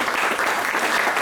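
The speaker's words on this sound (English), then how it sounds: "I request all of you to give a very good applause to the CRRI team" An audience at a training closing ceremony applauds in a brief, dense burst of clapping that holds steady throughout.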